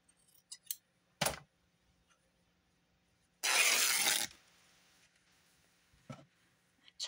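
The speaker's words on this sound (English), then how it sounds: "So we're going to take this, cut it." Scissors cut through material for a handmade hinged journal, with a few sharp isolated snips followed by one longer, loud continuous cut, close by in a quiet room.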